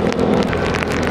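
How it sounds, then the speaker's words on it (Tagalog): Rain falling during a motorcycle ride in the countryside near Lucban, Quezon, a loud, dense hiss of drops under the engine and road noise throughout the short clip. "Sayang, umuulan."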